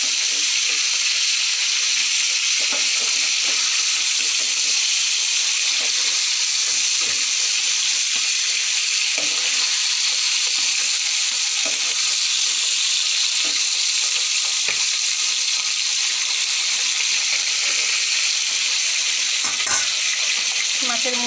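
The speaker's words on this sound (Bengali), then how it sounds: "মাছের মুড়াগুলো ভেজে নিচ্ছি।" Fish heads frying in oil, a steady close hissing sizzle that runs throughout, with occasional light clinks and stirring sounds and no talk.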